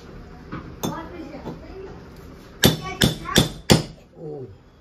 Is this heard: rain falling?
no